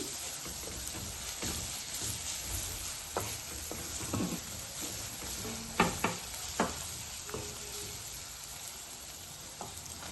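Ginger-garlic paste frying with raw banana pieces in a pan gives a steady sizzle. A spoon stirs and scrapes in scattered clicks and knocks, louder near the middle, with no talking.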